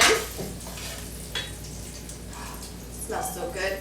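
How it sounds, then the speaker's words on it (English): Pancetta crisps in a pan with a soft, steady sizzle and occasional pops, faint beneath a person talking. "I have my pancetta cooking here in a pan"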